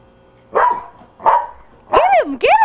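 A dog barks four times at close range, with short, sharp, yelping bursts spaced about half a second apart while it goes after a punching bag.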